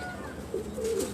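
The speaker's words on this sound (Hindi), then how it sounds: "ये सलारा कबूतर है जी, और ये मेरा मोस्ट फेवरेट सलारा कबूतर है।" A Salara pigeon coos softly twice in quick succession, close and fairly quiet over faint background hiss.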